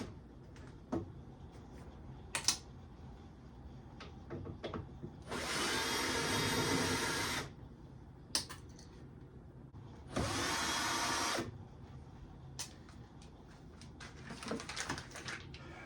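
A power driver backs screws out of a 1964 Gibson Scout GA-17 Crest Line amplifier in two whirring bursts of a couple of seconds each, close and loud, with clicks and handling knocks in between.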